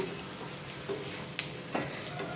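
Stuffed eggplant frying in a spicy garlic masala with curry leaves, giving a steady soft sizzle throughout, with a couple of brief utensil scrapes or stirs partway through.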